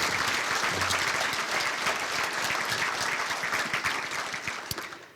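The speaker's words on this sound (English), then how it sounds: "Please give them another round of applause." A banquet hall audience applauds a national champion women's bowling team at a university scholarship ring banquet, steady, close-packed clapping from a sizable crowd that thins out in the final second.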